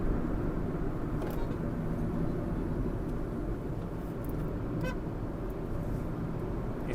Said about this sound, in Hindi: देखिए वॉल्वो चल रही है अपनी